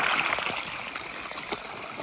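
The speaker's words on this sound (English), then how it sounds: "here's the gurgling waterfall" Gurgling water spilling over a small waterfall in a drainage stream swollen after heavy storms; a soft, steady burble with faint splashes, moderately distant and quiet.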